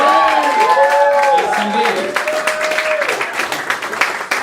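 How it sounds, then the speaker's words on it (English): An audience at a live comedy roast battle event in New York City claps and cheers, with loud, sustained applause running throughout while voices call out on top of it. "can you give our main event battle round of applause for the crowd?"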